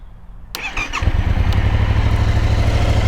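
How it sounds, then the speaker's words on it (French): Yamaha Tracer 700 motorcycle with its stock exhaust, engine cranking and starting after a brief quiet moment, then settling into a loud, close, steady idle with an even low rumble. "Je vais tout de même vous faire écouter le bruit de cette moto"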